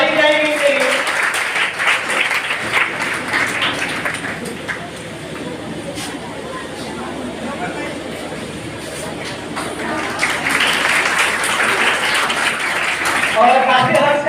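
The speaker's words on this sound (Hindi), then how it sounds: "आप लोग ताली बजाएंगे इनके लिए।" An audience applauds at a prize distribution ceremony held by a coaching institute in Bhatni, with dense, sustained clapping that fills the whole stretch and rises again toward the end.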